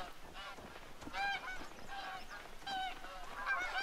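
A flock of geese honks repeatedly in overlapping calls at moderate distance during a goose hunt in the video game The Hunter: Call of the Wild, set in Hirschfelden.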